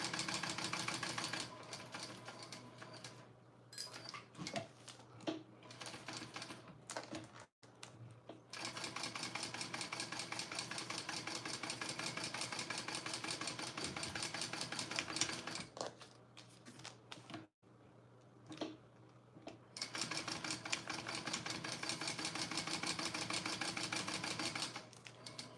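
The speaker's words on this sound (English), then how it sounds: "Top stitch those down. Oh, helps if you turn your machine on." A sewing machine top stitches fabric for a bag, running in long steady mechanical bursts of rapid needle chatter with brief pauses between runs, close and alone.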